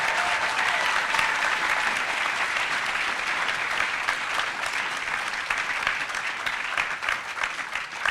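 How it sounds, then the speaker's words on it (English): Audience at a university high school Founders' Day assembly applauding, a sustained, even round of clapping from many hands that carries through without pause. "would you give a round of applause to honor Chuck Webster?"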